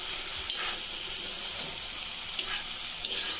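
Food frying in a pan with a soft, steady sizzle, broken by a few sharp scrapes of a spatula stirring it, close and moderately quiet, with no talking.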